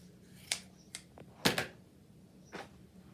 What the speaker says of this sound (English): I'm going to cut it off about 1/2 inch